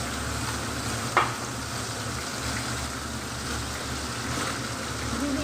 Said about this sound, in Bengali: প্রথমে এই মশলাটাকে আমি একটু ভালো করে ভেজে নিচ্ছি হালকা করে